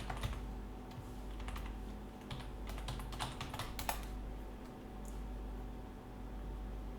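Fingers type a login on a computer keyboard, a steady run of soft close clicks over a low electrical hum, with no talking.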